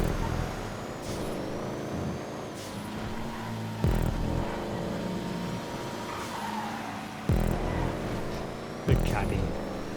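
Car engine of a Deluxo racing in GTA 5, droning steadily with a few sharp bursts and thumps, under speech.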